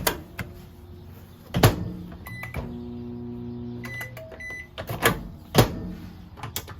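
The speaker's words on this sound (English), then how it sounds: "Moving on, microwave." Microwave in a 2022 Jayco Jay Flight SLX8 224BH travel trailer is operated: a few close clunks of the door and buttons, then a series of short electronic beeps, with a faint hum between them.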